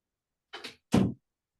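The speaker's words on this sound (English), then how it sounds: "I'm just going to let Comet out because she's knocking at the door." A door opens to let a dog out: two short clunks of handle and latch, then a fuller thud as it swings, close and fairly loud with silence around it.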